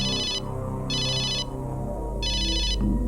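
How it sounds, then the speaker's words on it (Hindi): A telephone rings in a household scene, giving three bright electronic bursts with short gaps between them over a low murmur of room noise. "बार बार फोन आ रहा है"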